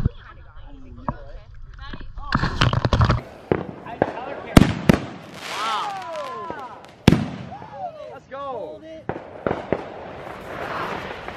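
Consumer fireworks, including artillery shells, going off at a Fourth of July backyard celebration: sharp bangs and crackling bursts at irregular intervals, with whistling trails rising between them and excited voices talking throughout.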